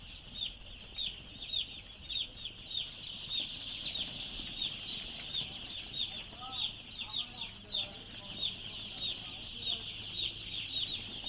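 Chicks in a brooder cheep and cluck steadily, a dense chorus of high peeps at moderate distance, with a low background hum.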